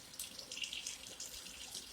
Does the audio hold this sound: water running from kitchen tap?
yes